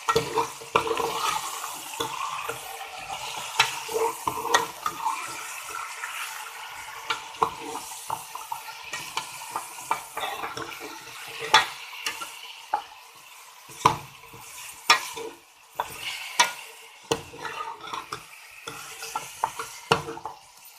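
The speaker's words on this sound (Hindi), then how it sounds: "और हम इसी के साथ अदरक लहसुन के साथ थोड़ा सा भूनेंगे गोश्त" Meat frying in a pan with ginger and garlic, a steady sizzle broken by repeated clacks and scrapes of stirring, close by, with no talking.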